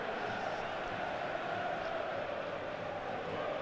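Broad, steady roar of a cheering football crowd inside a stadium in the FIFA 15 video game, Burnley fans celebrating a goal against West Ham, dense and continuous with no breaks.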